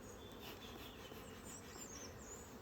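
Honey bees buzzing around an open hive during an inspection, a continuous close, droning hum with no speech.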